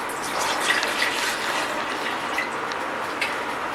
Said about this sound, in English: Now we take a milk and put it in the jar